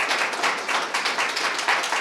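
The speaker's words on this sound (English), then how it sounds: "Can we give our panelists a round of applause?" Audience applause for a panel of speakers at a Denver Startup Week spotlight session, a steady dense wash of many hands clapping that fills the room for the full two seconds, with no talk over it.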